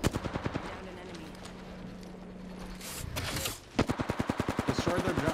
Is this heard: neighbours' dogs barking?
no